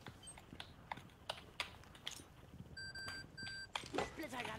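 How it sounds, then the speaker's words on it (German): Proximity alarm in the tactical shooter Rainbow Six: two short, clear electronic beeps amid clattering clicks and knocks, with people talking quietly over the game sounds. "Hier piepst was und klonkt was und klingelt was. Den Annäherungsalarm war das."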